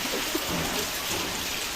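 Cold rain pours down steadily during a sudden May storm with strong wind, making a dense, even hiss of drops close by with no voices.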